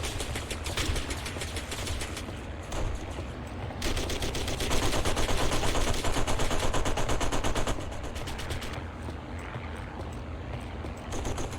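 Gunfire from German reinforcements in the WW2 Online game, a loud, near-continuous clatter of rifle and machine-gun shots with a rapid burst in the middle, no talk.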